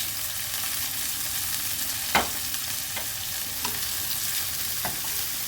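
Corn, cashews and raisins being stir-fried for paneer fried rice, a steady sizzle in hot oil broken by a few sharp scrapes of the spatula against the pan, close and alone with no talk.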